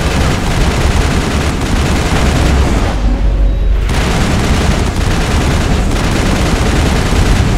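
Sustained rapid gunfire and booming weapon blasts from combat in the video game Mass Effect, dense and loud throughout with a brief lull midway.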